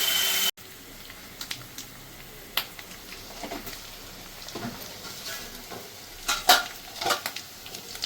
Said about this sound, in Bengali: এবার একটু আলু আর পেঁয়াজটাকে একটু ভালো করে ভেজে নিই